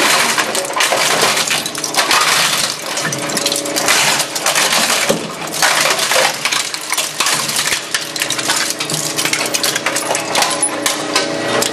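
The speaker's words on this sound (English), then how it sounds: "demonstrate another couple of telephones." Ball & Jewell e-scrap shredder chewing up telephones, a loud continuous crunching and cracking of plastic with dense rattling fragments throughout, no pause.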